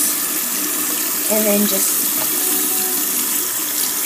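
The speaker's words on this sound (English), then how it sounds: "So let me just turn on the faucet." Water running steadily from a bathroom sink faucet, a constant close hiss throughout, with a person briefly talking over it.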